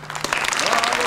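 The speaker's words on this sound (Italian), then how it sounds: "Ma come applaudono?" Audience applause in an Italian amateur comedy film from 1998, a brief burst of scattered clapping from a crowd, with a voice faintly underneath.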